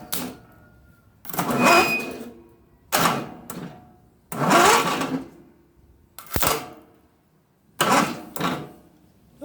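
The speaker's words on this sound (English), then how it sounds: "every single time the starter motor turned over." A Craftsman riding mower's starter motor, jumped straight to the battery while diagnosing a bad solenoid, cranks over in six loud, close bursts of about a second each, separated by short quiet gaps, with one sharp click in between.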